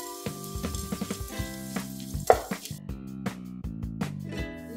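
Chana dal frying in hot oil in a pan while making a curry leaf chutney powder, a steady close sizzle with crackling pops and brief stirring scrapes throughout.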